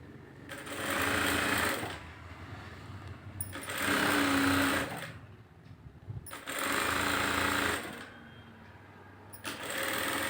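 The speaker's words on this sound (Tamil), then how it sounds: "மடித்து ஒரு தையல் போடுங்க." An electric sewing machine stitches a folded silk saree sleeve frill in repeated bursts of steady whirring, each run lasting a couple of seconds, separated by short pauses with quiet handling.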